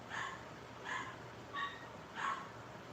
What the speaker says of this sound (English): That dog making too much doggone noise.